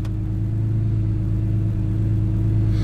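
A BMW E46 M3 engine idles at close range, giving a steady low rumble with even pulsing and no change in pitch across the whole stretch.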